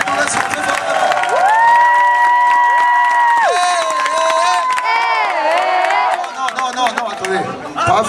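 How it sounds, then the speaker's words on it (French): A loud crowd at a holiday gathering bursts into cheering, whoops and high sustained shouts, with some clapping and excited chatter mixed in throughout. "on va leur faire une ovation très forte"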